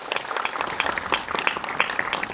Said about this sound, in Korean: 감독님 영화에 그리고 감독님께 그리고 함께 본 모두를 위해서 박수 한번 치고